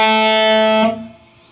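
A single sustained electric guitar chord from a riff, picked once and ringing loud and clear, then cut short and fading after under a second, played alone.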